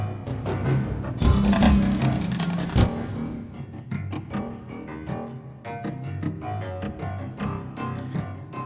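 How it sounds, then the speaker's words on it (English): A prepared piano plays in-game level music, with dense, percussive struck and buzzing tones in a steady, driving rhythm. A loud accented burst comes early on, then the pattern continues at moderate loudness with no voices. "One really important instrument for this level shed was the prepared piano."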